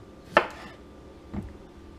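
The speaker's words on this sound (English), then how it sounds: "So what I do is I cut off that little tip." A kitchen knife slices the tip off a cucumber being prepared for homemade refrigerator dill pickles: one sharp, close chop followed by a softer second tap on the cutting board a second later, with no voices.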